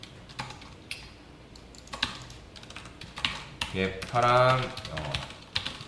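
Typing on a computer keyboard during a Java programming lesson: scattered quick key clicks, close and moderately loud, in short irregular bursts, with a voice speaking briefly in the middle.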